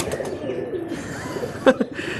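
Pigeons cooing in a backyard setup that also keeps chickens: soft low coos with a brief, louder burst of bird calls near the end, over light background chirping.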